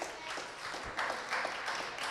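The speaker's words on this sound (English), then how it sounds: "Y'all can clap it up for that." Audience clapping at a recorded interview show, a soft spread of scattered applause with a few louder swells, fairly faint and distant, without speech over it.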